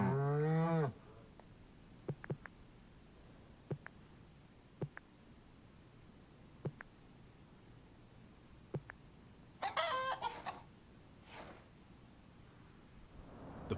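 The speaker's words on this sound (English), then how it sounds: "Morning wakes up the cows." Cows mooing at morning in the Orwell's Animal Farm video game: one loud low moo opens, then a later bellowing call, with scattered soft clicks and a faint insect-like background between them.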